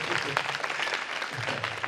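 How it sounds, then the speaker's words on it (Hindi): A church congregation claps during a Hindi-language sermon, a dense burst of applause filling the hall with steady crackle and some voices mixed in. "जोरदार तालियां बजाओ."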